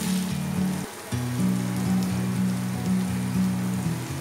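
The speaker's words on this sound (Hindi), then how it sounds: "हमारे सारे जो मसाले हैं इसको अच्छे से फ्राई करना है" Ground spices fry in a pan for a cauliflower (gobhi) curry, giving a steady, rain-like sizzle that runs throughout beneath a looping melodic background tune.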